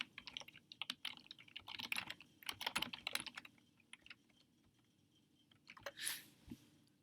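Quick bursts of typing on a computer keyboard fill a Google Doc letter, close, soft key clatter in uneven runs with short pauses and a faint rustle near the end.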